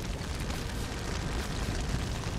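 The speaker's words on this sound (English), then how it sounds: "that fire explosion scared the crap out of me" A fire explosion in the video game We Happy Few roars as a loud, sustained rumbling blast that fills the whole stretch at steady intensity, with no speech over it.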